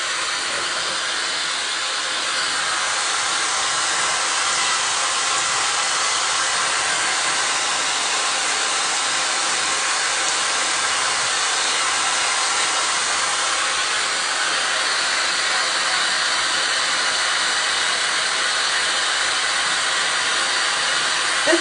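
A hair dryer blows steadily and loudly throughout, a constant airy whoosh with no talking over it.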